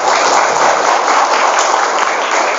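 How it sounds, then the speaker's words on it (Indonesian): Dense, sustained applause from a large crowd at a motivational event in Pesantren Darul Istiqomah, Banjar, a steady loud roar of hands clapping with no letup. "Tepuk tangan untuk kita semua."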